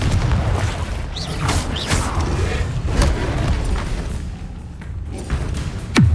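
Confringo fire spell blasting during a Hogwarts Legacy duel, a dense run of booming thuds and explosive bursts over continuous battle noise, ending with a sharp, loud impact.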